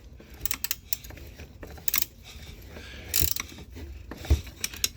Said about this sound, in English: And now you can unbolt it.